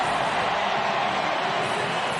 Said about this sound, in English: you're hearing from the crowd here, it's just been announced on the video board, Lewandowski into the match.